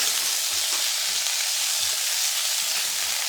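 Beef sizzles steadily in a hot pan, a continuous bright frying hiss with a few soft stirring bumps underneath, close and without talk.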